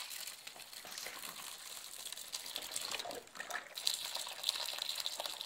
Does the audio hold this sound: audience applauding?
no